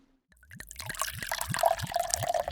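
Lake water moves softly with gentle, rhythmic laps and small drips, close and quiet, rising after a brief moment of silence and continuing alone.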